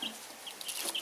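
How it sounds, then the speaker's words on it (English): Young Jersey Giant chicks kept in a small box, six of them, give off thin high peeping chirps scattered irregularly through a faint, fairly quiet background. "here's the chicks. They are Jersey Giants."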